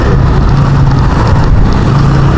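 Steady, loud engine rumble of road traffic moving along a stretch of road after a strong storm, a continuous drone with no talking.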